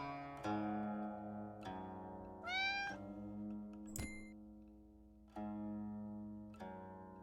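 A cat meows repeatedly, several loud, close, drawn-out calls spaced a second or two apart, with one higher rising yowl in the middle and a sharp click partway through.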